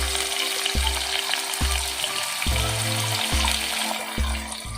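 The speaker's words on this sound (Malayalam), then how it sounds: "നിങ്ങൾ നന്നായിട്ട് ഇത് ഫ്രൈ ചെയ്തെടുക്കാം" Sliced onions frying in hot coconut oil on medium flame, a steady close sizzle running throughout with a low repeating rhythmic thump underneath, no talking.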